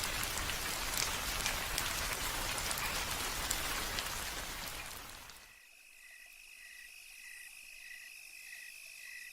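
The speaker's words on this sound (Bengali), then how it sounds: "বাইরে এখনও ঝিরঝিরে বৃষ্টি হচ্ছে।" Light drizzling rain at night falls as a steady dense patter for about five seconds, then eases off, leaving quiet night ambience with a faint, regularly pulsing insect chirp.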